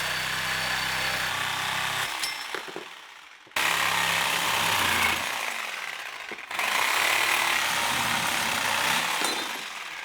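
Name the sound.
reciprocating saw cutting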